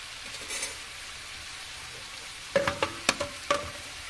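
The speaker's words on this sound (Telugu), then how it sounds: "చికెన్ ఫ్రై ఎలా ఉడుకుతుందో చూద్దాం. ఇప్పుడు చాలా బాగా ఉడుకుతుంది." Chicken fry cooking in a pan with the lid on, a quiet steady sizzle, then a run of five or six clattering knocks as the lid and pan are handled.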